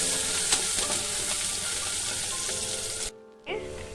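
Chopped onion sizzles and fries steadily in a pan for about three seconds, a dense continuous crackle, then briefly drops away before resuming as the onion is stirred; no one speaks.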